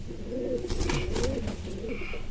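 A pigeon coos in low, throaty rolling phrases, close by, repeating over a steady background hum with no talking.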